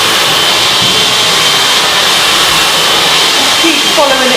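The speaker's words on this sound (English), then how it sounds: "just follow it down with the hairdryer" A loud, steady hair dryer roars continuously at close range, its airflow rushing without pause throughout.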